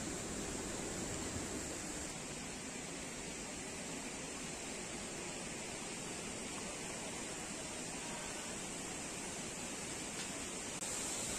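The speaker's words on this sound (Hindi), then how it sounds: "तो गाइस देखो बहुत ब्यूटीफुल सा वाटरफॉल" Rainbow waterfall in the Kalej valley near Darjeeling, a steady, loud broadband rush of falling water that holds constant throughout, with no voices.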